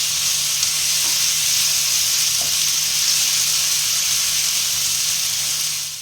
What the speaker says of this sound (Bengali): আদা রসুন আর লঙ্কা, হ্যাঁ, কাঁচা লঙ্কা। কাঁচা লঙ্কা। এটা একটু ভেজে নেবো